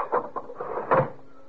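A drawer slides shut in a radio drama sound effect, with a few quick wooden knocks and rattles and a firmer thump near the end, close and clear.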